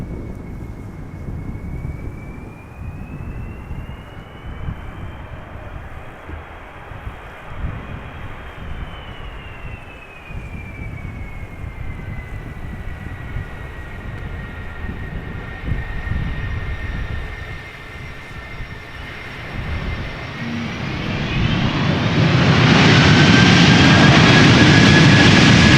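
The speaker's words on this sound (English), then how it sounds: "First Delta A380-300, Delta Airlines Flight 162 arriving from Minneapolis, Minnesota." Delta Airlines Airbus A330-300 jetliner, about 17 years old, arriving at Amsterdam Schiphol in gusty crosswinds: a steady jet-engine roar with a slowly shifting whine that swells sharply louder near the end as the aircraft passes close.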